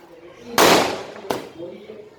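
Fireworks at a temple Soorasamharam festival: two sharp, loud bangs about a second apart, the first with a longer crackling tail, against a murmuring crowd and voices.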